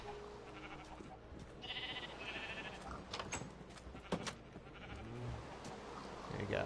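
Sheep bleat on an animal farm in a PS4 video game, several faint, wavering cries rising over a soft ambient background.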